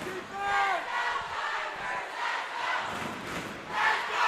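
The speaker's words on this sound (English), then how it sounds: "The crowd really getting into it right now" A crowd cheers in a high school boys' basketball gym, a swelling, roaring wave of yells and shouts that rises and falls in pulses, with a loud whistle-like tone near the start.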